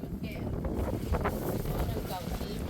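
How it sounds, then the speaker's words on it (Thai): Cold wind buffets the microphone at an outdoor midday market in Salavan, southern Laos, a steady low rumbling roar with voices faintly mixed in. "ลมหนาวเริ่มพัดมา"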